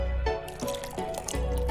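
Absinthe poured into a glass on the rocks in The Red Strings Club video game: repeated gurgling, dripping glugs in a steady rhythm, close and moderately loud, with no talking.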